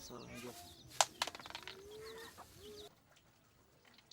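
Chickens cluck in a yard in Kibera, Kenya, with a few sharp, close squawks near the start followed by softer scattered clucks, and faint background voices.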